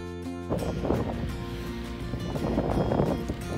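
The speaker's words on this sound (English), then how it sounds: "It's just so windy out here" Heavy wind roars into the microphone outdoors by a chicken coop in a continuous rumbling buffet, loud and close, with no voices.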